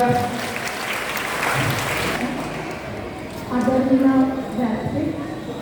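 An audience at a school event claps after a voice over a loudspeaker calls for it; the applause swells in the second half, with speech before it.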